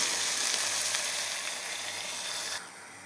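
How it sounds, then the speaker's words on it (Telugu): Fenugreek leaves fry in hot oil after onions for a spicy green rice dish, a steady close sizzle and hiss that runs evenly, then drops suddenly quieter near the end. "ఈ మెంతి కూర వేసుకొని వేగించుకోవాలి. నూనెలో బాగా ఫ్రై చేసుకోవాలి."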